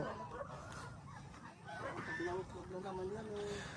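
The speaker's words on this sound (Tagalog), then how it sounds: "Mga barako po." Roosters in the Philippine countryside at Guimba, Nueva Ecija give faint clucks and a short, drawn-out crowing call, heard quietly at a distance with some voices around them.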